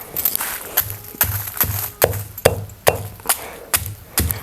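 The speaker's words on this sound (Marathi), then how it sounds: "अगोदर थोडंसं आहे ना असं टेचून घेऊया म्हणजे लवकर आपल्याला ना बारीक करता येईल" Roasted chilies for a homemade South Indian sambar masala are pounded with about ten sharp, regular thuds, close and loud, before grinding.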